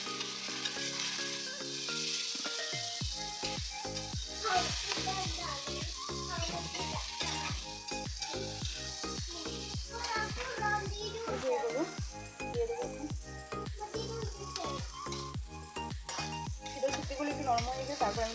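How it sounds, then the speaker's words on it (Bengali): Spices with chili powder sizzle loudly in a hot pan as they are stirred, with rhythmic scraping strokes over a constant frying hiss and a voice speaking now and then. "ভালো করে নাড়িয়ে নিই।"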